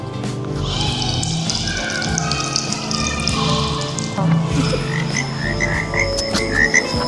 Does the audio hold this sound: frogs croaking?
yes